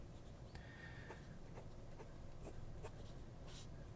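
A medium-nib pen scratching across paper in short, faint strokes, quiet and close, with soft ticks as the nib lifts and lands.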